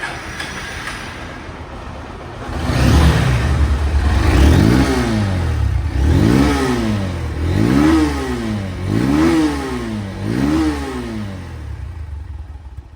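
A second-hand Honda Hornet double-disc motorcycle idles, then its engine is revved repeatedly in a series of rising and falling blips, close and loud, before settling back to idle.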